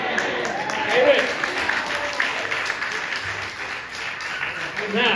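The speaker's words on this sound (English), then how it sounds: "Now, y'all clapping." A church congregation claps steadily during a sermon, a mix of scattered and continuous applause with some voices murmuring underneath.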